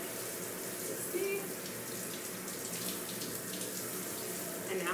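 Shower water runs steadily in a continuous broadband hiss and splatter, filling the whole stretch without pause at moderate loudness.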